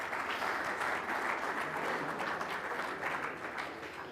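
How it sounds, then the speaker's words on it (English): An audience at a business technology event claps in steady, dense applause that continues throughout, loud and sustained without a break. "Big hand clap for Micah."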